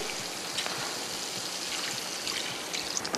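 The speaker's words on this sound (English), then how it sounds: "Once it's all smooth, we're going to pour it over our chicken." Smooth teriyaki sauce pours over chicken pieces in a thin, steady trickle with faint patters and drips, close and fairly quiet, without talk.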